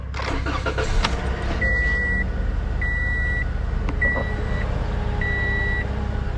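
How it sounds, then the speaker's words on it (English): A Toyota car with a misfire, after coil pack replacement, is cranked and started, its engine rumbling steadily up close while a repeating electronic warning beep sounds over it; no one speaks. "Now I'm going to crank the car."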